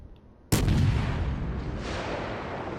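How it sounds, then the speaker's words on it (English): Naval artillery barrage in World of Warships: a sudden heavy boom of shellfire lands after a quiet moment, followed by a long rumbling, crackling roar that slowly fades, loud and close. "Definitely not looking forward to this barrage."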